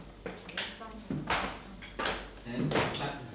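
Feet stomping in a group body percussion cypher: several heavy, broad thuds land at uneven spacing, fairly close, with voices faintly present in the background.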